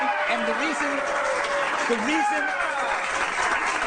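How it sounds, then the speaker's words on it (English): Studio audience at a Fox News late-night talk show breaks into sustained applause and clapping, steady and moderately loud, while someone talks over it. "I knew I would get applause"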